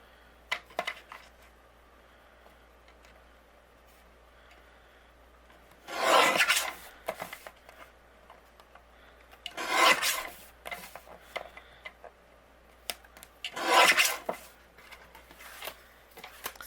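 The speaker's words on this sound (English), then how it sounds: "I'm going to take my paper trimmer and we're going to trim this down." A paper trimmer slices a cardstock card panel in three distinct swipes, each a short, loud rasping cut with quiet pauses between. The blade strokes are close and there is no talking.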